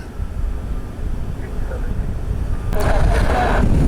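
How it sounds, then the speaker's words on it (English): At Orlando International Airport, an Airbus A320 airliner taxiing nearby makes a broad, steady engine rumble and roar that grows louder toward the end, with wind noise and a voice in the background. "A320 taxiing over is going to get in the line"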